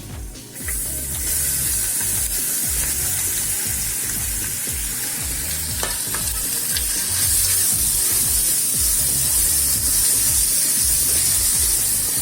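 Ginger fries in oil with a continuous sizzling hiss, steady and fairly loud, growing a little stronger toward the end, while preparing Onam special inchipuli.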